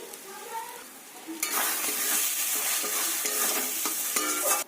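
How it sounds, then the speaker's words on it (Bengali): Pointed gourd curry with cumin and coriander powder sizzles and is stirred in a frying pan, starting quietly then turning to a loud steady frying hiss with repeated scraping strokes of the spoon, no talking. "বারে বারে হাতটা নেড়ে যেতে হবে যাতে তলায় লেগে না যায়"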